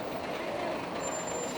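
A bus rumbles past on a city street in a steady, dense wash of engine and road noise with a faint air-brake hiss, close and continuous, with a hint of voices in the background.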